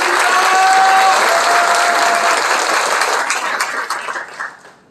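A crowd applauds at a political party labour committee launch ceremony, loud dense clapping that holds steady before thinning into scattered claps and fading out.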